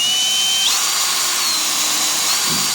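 A power drill bores a hole during a Nissan S12 Silvia turbo build, giving a loud, steady, close-up high-pitched whine that holds throughout, with slight pitch shifts as the bit works through.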